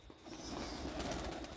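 Pigeons coo softly and briefly amid a steady wash of outdoor background noise, with no clear wingbeats.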